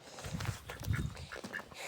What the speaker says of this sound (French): Alors, le canard